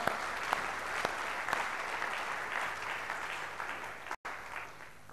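A church congregation applauding: steady, dense clapping from many hands that fills the whole space for about five seconds, with a brief cut near the end.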